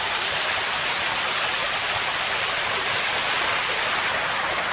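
A small waterfall spills over a creek dam next to a bridge, a steady close rush of splashing water that fills the whole stretch evenly with no other sounds.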